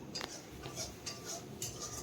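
A spoon scrapes and clinks against a pan as masala that has released its oil is stirred and fried for a winter melon (chal kumro) vegetable curry, a few soft metallic knocks over a faint sizzle.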